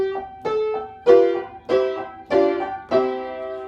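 Piano plays the opening of Beethoven's Für Elise with both hands together, slow deliberate notes ringing one after another, clear and close in a quiet room with no talking.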